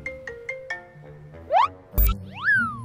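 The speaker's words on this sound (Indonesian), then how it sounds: "Apa Komsul dengaran telepon aku?" A phone ringtone plays a quick sequence of beeping notes followed by sliding boing-like tones, close and clear with no talking.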